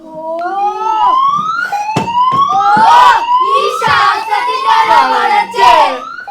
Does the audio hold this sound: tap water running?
no